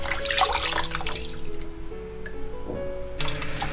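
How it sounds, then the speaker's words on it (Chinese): Running tap water splashes steadily over shiitake and shimeji mushrooms in a sink as they are rinsed clean, with faint drips and handling noises, close and continuous, no talking. "然后把香菇跟蟹味菇给它清洗干净"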